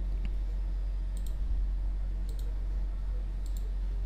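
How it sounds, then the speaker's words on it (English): A computer mouse clicked in quick double-click pairs three times over a steady low background hum, crisp and close, used to extract a zip file. "So just double click it to extract this zip file."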